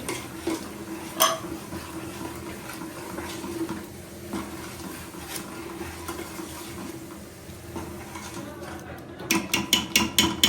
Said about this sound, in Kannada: ಮಸಾಲ ಚೆನ್ನಾಗಿ ಫ್ರೈ ಆಗಲಿ.